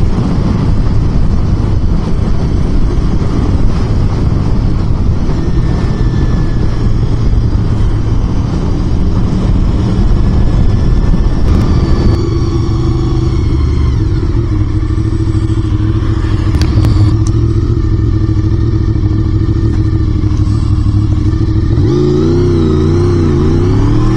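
A Honda VFR750 sport GT motorcycle is ridden with the engine revving and accelerating, loud and close, pitch rising and falling through gear changes with wind rush, and no talk.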